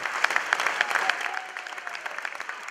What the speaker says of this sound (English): At the 38th minute, there's going to be a minute's clap for Dylan Tombides